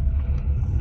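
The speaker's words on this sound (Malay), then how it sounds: "Dibuat bunyi fake untuk kereta." A Proton eMAS 7 electric car plays its artificial driving sound, heard as a steady low synthetic hum with a faint rumble, close and continuous.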